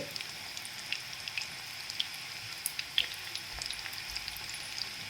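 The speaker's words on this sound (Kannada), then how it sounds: "ಎಣ್ಣೆ ಮೊದಲೇ ಕಾಯಕ್ಕೆ ಇಟ್ಕೊಂಡು ಬಿಟ್ಟಿರ್ತೀನಲ್ವ ಅದರೊಳಗಡೆ ಇದನ್ನು ಹಾಕ್ತಾ ಬನ್ನಿ" Okra masala rolls fry in hot oil with a faint, steady crackle and scattered tiny pops, close by and quiet, with no voices.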